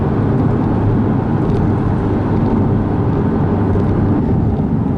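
A Porsche 718 Boxster engine pulls hard under acceleration, a loud, dense, throaty drone heard from inside the car, steady and continuous throughout with no talk.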